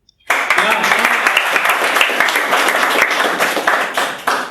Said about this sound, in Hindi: अच्छे लग रहे हैं या यूं ही तालियां बजा रहे हो? तो थोड़ी ज्यादा बजाओ यार, ये कम है तालियां।